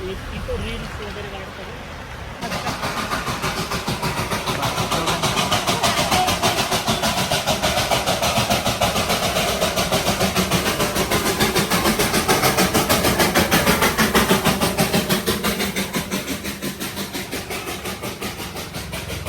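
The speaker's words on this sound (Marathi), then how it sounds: "toy train" The Darjeeling toy train's engine kicks in and runs with a loud rapid chugging pulse close by, steady for many seconds before easing slightly, with people talking over it.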